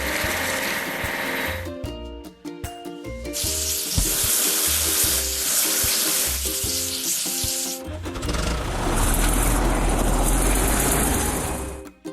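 Washing a bulldozer in a truck and construction video game: a steady spraying, hissing wash sound with game tones and beeps, fairly loud and continuous throughout, pausing briefly near the middle, with no talking.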